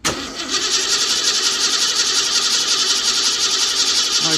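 A Ford 302 V8 in a Mustang cranks over steadily on the starter, a loud, continuous rhythmic churn close by that carries on without pause, during a compression check on a dead cylinder.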